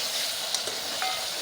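Eggplant and potato pieces hit hot oil and masala in a pan for an aloo baingan curry, giving a steady close sizzling hiss with a few soft clicks and scrapes of stirring, and no voices.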